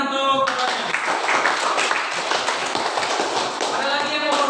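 Classroom audience applauding, a dense, steady patter of many hands that starts abruptly after a brief moment of voices and carries on evenly, with some talk mixed in.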